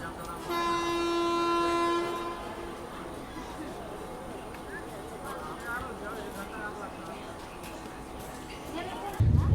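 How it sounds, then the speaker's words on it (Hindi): An Amrit Bharat Express pulls out of Madhupur Junction station, sounding a loud sustained horn at first, then a continuous rumble of rolling wheels with voices in the background. "मात्र 2 मिनट यहाँ पे ट्रेन रुकी और डिपार्चर का संकेत हो गया अपने यहाँ से।"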